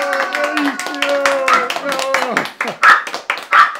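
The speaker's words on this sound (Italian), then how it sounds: "ti applaudo" A few sharp hand claps ring out under a loud, sing-song voice, becoming more prominent toward the end.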